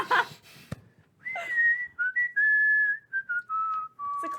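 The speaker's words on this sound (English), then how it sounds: "as he's walking away, you hear him whistle" A man whistles a clear, tuneful melody of sustained and sliding notes, broken by short pauses, heard alone after a brief rustle and a sharp tap.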